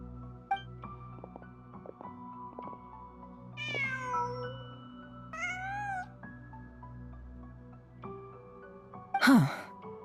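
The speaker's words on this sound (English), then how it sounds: "Just a cat." A cat meows in the Genshin Impact video game: a few drawn-out, wavering meows and a sharp, rising cry near the end, heard over a quiet, steady background hum.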